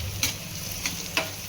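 Chopped onion fries in a pan for a chicken kheema pav recipe, a steady low sizzle broken by three sharp scraping stirs spaced across a second and a half, with no talking.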